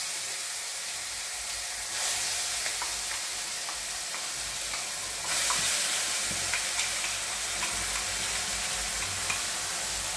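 Ground masala paste, blended in a mixer and added to crackling oil tempering, sizzles steadily in a pan for a potato aamti, with spoon scrapes and stirring clatter throughout; the sizzle swells louder around two and five seconds.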